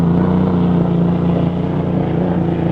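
A steady, loud roaring engine drone of a racing hydroplane boat with a rough-running engine at the 1959 Gold Cup in Seattle, rough and continuous with a low rumbling hum throughout.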